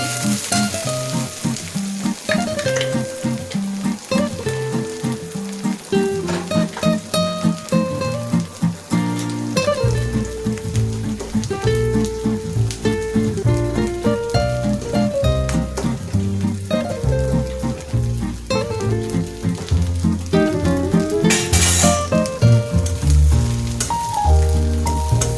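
Chopped onion fries in a pan with a constant crackling sizzle under a loud melodic music track with a steady beat, the frying mostly buried beneath the music.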